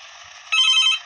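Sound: telephone ringing in a taxi video game

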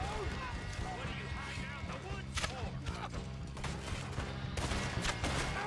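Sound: gunshots in video game Red Dead Redemption 2

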